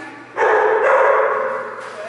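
A dog gives one drawn-out, loud bark or yelp close by, held for nearly two seconds before fading, with no talking over it.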